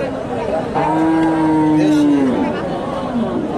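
A pregnant native-breed cow moos in one long, low call over the dense crowd chatter of the Dhap cattle market in Bogura.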